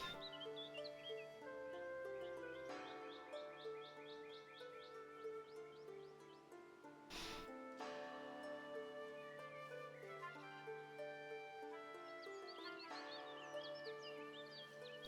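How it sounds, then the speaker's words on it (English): Birds chirp in repeated short bursts in the Foundation city-building game, mixed with steady ambient music and layered tones that run throughout. "Also just enjoying kind of sitting here and watching it and listening to like the bird noises."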